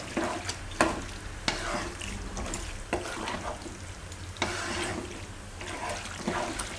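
A spoon works chili flakes and oregano through a vegetable gravy pasta in a pan, giving repeated scraping stirs over a steady soft sizzle, close up and with no voices.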